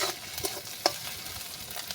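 Ginger-garlic paste and slit green chillies fry with browned onions for an egg curry, producing a soft sizzle with stirring scrapes and one sharp clink of a spoon against the pan.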